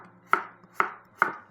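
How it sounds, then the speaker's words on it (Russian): Knife slicing cucumbers diagonally into thin pieces on a cutting board, three crisp, evenly spaced chops heard close and clear with nothing else around them. "вот так вот по диагонали, буквально 3-4 миллиметра толщиной нарезаю огурцы"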